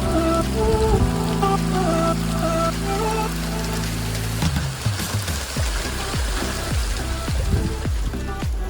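Steady rain patters on Lake Vermilion, Minnesota, with a droning tone early on giving way to irregular drips and splashes.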